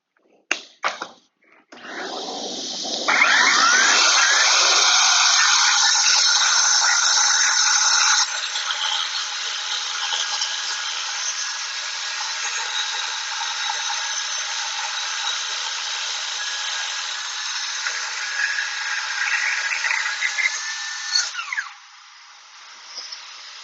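WEN cordless track saw cutting wood at a 3/4-inch depth: a loud, steady high-pitched motor whine and cutting roar that spins up after a few clicks, holds for most of the clip, then winds down.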